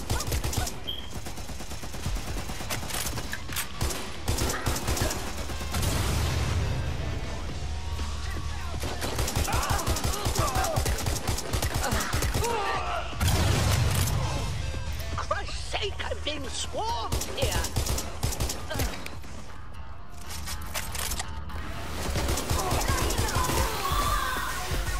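Gunfire from the video game Watch Dogs Legion: sustained bursts of automatic and single shots running through a busy combat mix, with talk over much of it.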